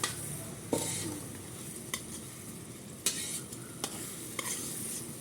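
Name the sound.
spice paste frying in a pan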